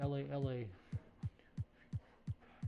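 A clothes dryer running loudly indoors makes a faint, regular thumping, with evenly spaced dull knocks repeating about three times a second. A voice speaks briefly just before the thumps.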